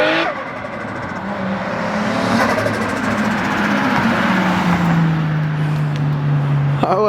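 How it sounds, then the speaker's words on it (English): A Nissan 240SX drives by outdoors, heard from a distance as its engine note swells and then drops in pitch while it passes, ending with a brief sharp noise. "I told this fool to drive my car because I've never heard my car drive from like outside view."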